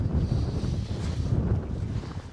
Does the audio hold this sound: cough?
no